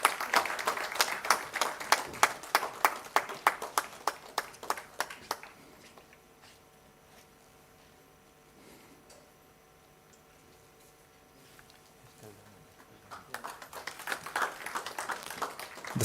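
Clapping at a school science event prize announcement, a burst of rhythmic hand claps for about five seconds, then a quiet hall with faint hum, and clapping returning near the end.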